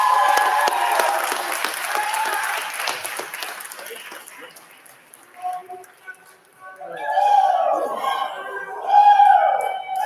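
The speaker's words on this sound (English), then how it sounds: "So give them a round of applause." A crowd at a corporate celebration in a grand hall applauds frontline teammates, dense clapping that fades away over several seconds before a voice begins speaking.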